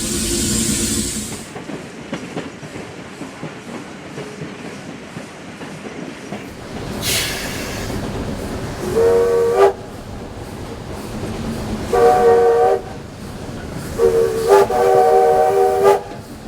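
A train rumbles steadily and sounds its horn in three loud sustained blasts, the last ones longer, over continuous rolling rail noise.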